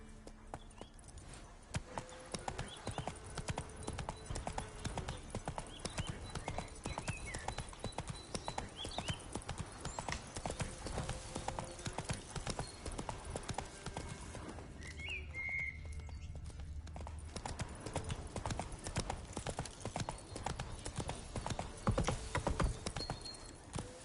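Roach, the horse in The Witcher 3, gallops with a fast, steady clip-clop of hooves that runs through nearly the whole stretch, with a brief whistle and faint game sounds around the midpoint.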